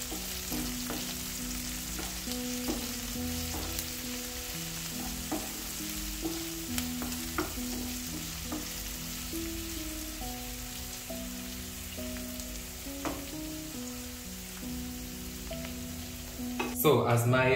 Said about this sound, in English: so as my onions are cooking down